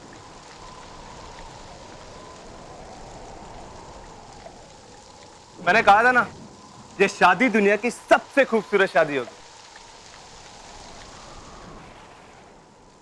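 Steady rain falls throughout as a soft, even hiss, with people talking briefly over it in the middle.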